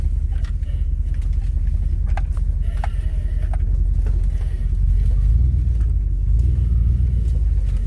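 A car drives slowly over a bumpy dirt track while scouting near a parked trailer, its low engine rumble steady and close throughout with faint rattles and knocks from the cabin.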